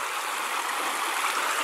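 The main channel of Łański Potok, a clear mountain stream, flowing in a steady, loud broadband rush with no breaks or voices.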